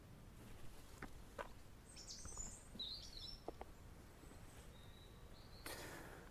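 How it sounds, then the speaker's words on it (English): Faint birdsong outdoors at a self-sufficient homestead, scattered chirps and short whistled calls over a soft, steady hiss of ambient noise, with a few light clicks and taps nearby. "Here, I am serenaded by birdsong, caressed by the hum of the bees,"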